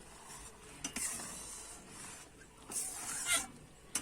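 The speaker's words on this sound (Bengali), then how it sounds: "আমি হালকা হাতে নেড়ে দেব" Boiled raw mango pieces being gently stirred in a pot for morobba, heard as soft scraping swishes with a few sharper spoon strokes against the pot, close and alone.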